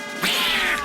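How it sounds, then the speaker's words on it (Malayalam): A cartoon cat gives one drawn-out, bright meow, loud and close, lasting under a second. "മ്യാവു മ്യാവൂന്ന് വേണം പറയാൻ"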